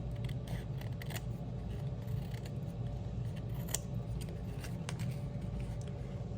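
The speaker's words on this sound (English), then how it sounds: "you can kind of just trim those off with your scissors" Faint, quick snips of scissors cutting paper, scattered clicks over a low steady background hum, close and quiet.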